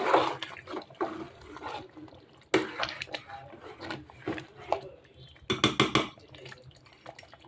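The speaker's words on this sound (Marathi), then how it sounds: "आता ह्यानंतर पुन्हा एकदा आपण त्याला व्यवस्थित खालून मिक्स करूया" A spoon stirring chicken pulao in a cooking pot on a medium gas flame, giving intermittent scraping and clinking knocks, with a cluster of sharp metallic taps near the end.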